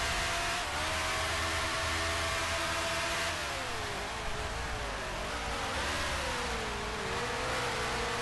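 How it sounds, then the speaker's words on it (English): A period race car engine in the Grand Prix Legends racing game, a buzzing, rasping roar whose pitch climbs and falls through gear changes and corners, loud and continuous over a hiss of road and wind noise, with no talk. "Boy, Brabham is all over behind me. Desperately wants to get by."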